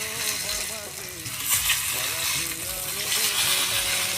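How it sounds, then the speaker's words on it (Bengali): Eggplant slices fry in plenty of hot oil, giving a steady crackling sizzle that runs the whole time, with a few louder bursts and a voice talking over it. "বেগুন ভাজা যত মজা তত তেলে দেখেন কত তেল বের হচ্ছে"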